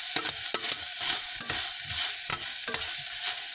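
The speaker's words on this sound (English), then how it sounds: "now I'm going to let it cook about 4 minutes just to brown up the meat now" Ground meat frying and browning in a pan, a steady close sizzle broken by repeated scraping and stirring strokes from a utensil, with no talk.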